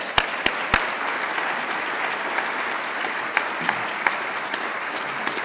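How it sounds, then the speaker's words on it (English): An audience at an International Ladino Day evening event applauds performers taking the stage, dense continuous clapping filling the room, with a few sharp louder claps close by standing out. "Let's give them a round of applause"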